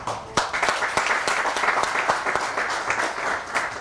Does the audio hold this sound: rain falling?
no